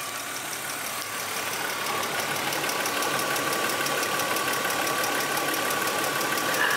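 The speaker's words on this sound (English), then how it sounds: "It's not too loud. I do, from what I've read, it does seem like these engines are a little bit noisier." A BMW E36 M3 engine runs steadily at idle, a continuous mid-pitched mechanical drone with a ticking clatter that grows slightly louder after the first second, with no voices.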